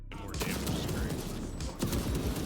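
A bolt rifle fires in rapid bursts in the Warhammer game Space Marine 2, heavy close thumps with a mechanical rattle, continuous through a short moment of combat.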